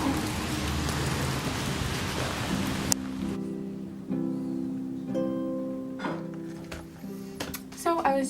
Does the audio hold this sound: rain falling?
yes